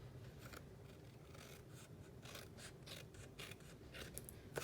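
Snips snipping steadily along the flap of a paper card envelope, a quiet series of close, crisp cuts and rustles with no talking.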